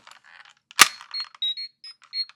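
A sharp click, then a series of short, bright electronic beeps and chirps from a small toy device, quiet and close, in an uneven pattern.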